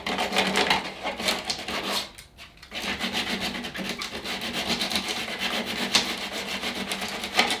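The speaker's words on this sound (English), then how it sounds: "still a bit of resin on there, so you can just lightly sand that, clean it all up" Light hand sanding of leftover resin on a surfboard, where a damaged fin box has been removed: steady, continuous rasping strokes up close, with a brief pause partway through.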